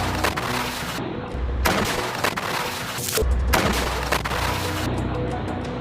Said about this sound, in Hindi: इजराइल के सैन्य वाहनों और मेरकावा टैंक्स पर हमास ने अल यासीन 105 रॉकेट बरसाए हैं।